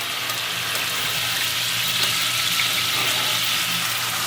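About a cup of water poured into a hot non-stick pan after searing a pot roast, producing a steady, loud hiss and sizzle that continues evenly throughout with no talk.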